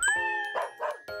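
A dog at a therapy dog trainer assessment gives a few short barks or yips, close and fairly quiet, with a steady high ringing tone running underneath.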